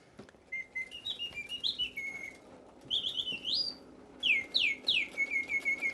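A mechanical bird imitates birdsong, giving bright whistled chirps and rising trills in three bursts with short pauses between them, close and clear over a faint room hiss.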